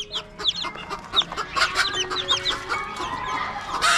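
A wild jungle fowl hen clucks over her newly hatched chicks, with soft repeated clucks mixed with busy high chick peeping, close and continuous.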